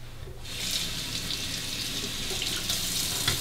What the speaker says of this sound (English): A quick rinse off.